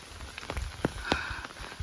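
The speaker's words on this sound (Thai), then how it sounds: "ฝนตกเรียบร้อยพี่น้อง" Rain falls on a rice paddy where cattle graze. Scattered drops patter irregularly with a few louder close hits over a soft wet background.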